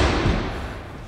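A single heavy thud against a solid prison cell door, loud and close, with a dull low boom fading out afterward.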